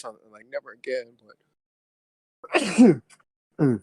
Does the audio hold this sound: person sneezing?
yes